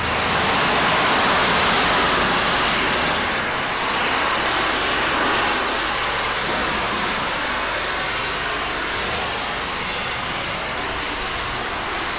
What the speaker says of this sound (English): I'm just going to give this rendered wall a light pressure wash just to free up some of the algae prior to applying some product